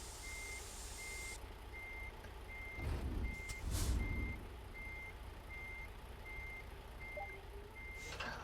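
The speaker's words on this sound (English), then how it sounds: "with advanced coupling, you have to back under the trailer very carefully" An American truck in a driving video game backs carefully under a trailer with advanced coupling, its steady reversing beeper pulsing evenly throughout over a low engine hum, with a brief louder rumble and hiss midway.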